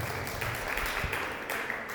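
A church congregation applauds loudly and steadily after a blessing, a dense wash of clapping from many hands filling the space for the whole stretch.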